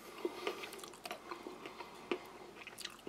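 Close, quiet chewing of crunchy nuts mixed into a Norwegian army arctic field ration vegetarian chilli stew, with soft wet squishes and small irregular crunches through a short stretch.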